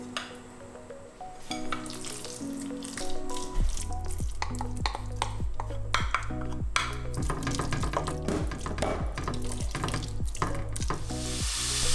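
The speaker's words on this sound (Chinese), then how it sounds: "先炒猪肉" Pork stir-fries in a wok for glutinous oil rice, a loud continuous sizzle with scraping spatula strokes, all beneath steady background music with a clear beat.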